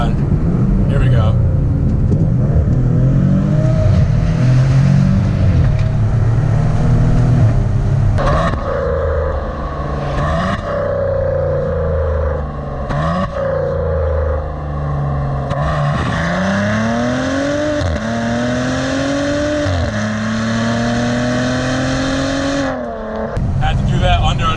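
Maserati Ghibli engine revving hard and accelerating through upshifts and downshifts under an overpass, loud and close from inside the car, with rising pitch sweeps broken by gear changes while someone talks over it.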